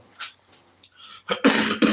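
A few sharp, loud coughs close to the microphone while cooking chicken pizza in a home kitchen, with brief throat noises first and a cluster of harsh bursts near the end.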